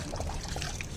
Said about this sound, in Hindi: यहाँ पानी डाल दे रोज।